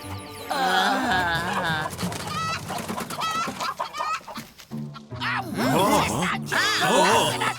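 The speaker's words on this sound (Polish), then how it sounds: "Przeklęte kurczaki!" Cartoon chickens in an animated Zorro series cluck and squawk in busy bursts, close and loud, mixed with talking voices and lively background sound throughout.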